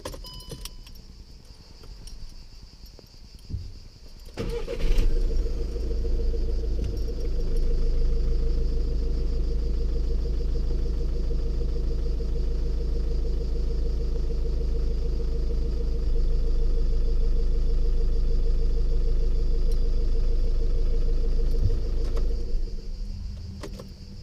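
A VW Polo 5 with a seven-speed DSG DQ200 gearbox runs with a steady, droning engine hum that starts after a brief rattle of keys and continues evenly for about twenty seconds before cutting out.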